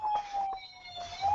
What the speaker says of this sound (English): My child had a police car under my table.